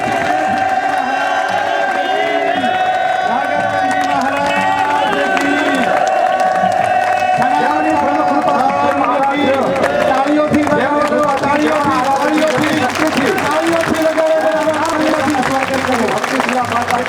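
Crowd applause and cheering at a village Hanuman temple consecration ceremony, a continuous mass of clapping and voices under amplified speech and music.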